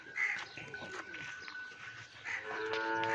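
A Nili breed buffalo on a farm near Arifwala gives a low, drawn-out moo-like call toward the end, with crow caws and general farmyard noise around it.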